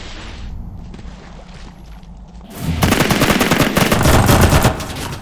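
Dense automatic gunfire from CRSED: Cuisine Royale kicks in halfway through, a loud sustained burst of rapid shots following quieter rumbling game ambience, with no voices over it.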